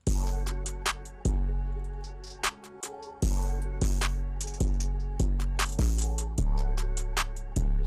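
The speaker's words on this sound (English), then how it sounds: "you have the open hat hit at the same place where the 808 hits" A hip-hop beat with booming 808 bass hits and bright open hi-hat strikes landing together, giving a crunchy, clipped, distorted punch at a steady tempo.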